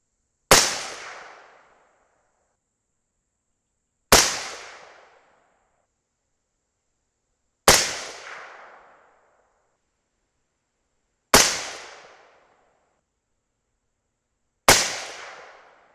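Five suppressed rifle shots fired during barrel testing, each a sharp muffled crack with a short decaying tail, spaced about three and a half seconds apart with silence between.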